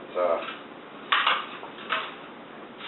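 Metal cupcake pans clank and rattle a few times in a kitchen, close and moderately loud, in short separate bursts against a quiet background.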